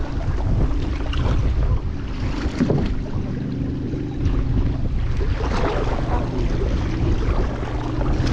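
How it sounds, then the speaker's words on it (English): Wind rushes steadily across an open boat on the water, a broad constant roar of gusts buffeting the microphone for the whole stretch, with faint water and hull noise underneath and no talking. "it's because the wind's pushing us too."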